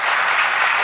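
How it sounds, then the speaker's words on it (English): A burst of applause sound effect played on a talk show, a thick, loud wash of clapping lasting under a second with no voices over it. "Oh, a round of applause."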